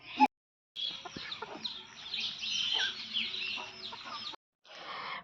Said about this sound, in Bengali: আমাদের মুরগিগুলো কোথায় উঠে আছে সব গাছের ডালের উপরে উঠে কি সুন্দর বসে আছে